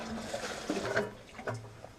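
Water drained from a worm bin is poured into a bucket, giving a short, moderately loud splashing and gurgling stream close up, no voices.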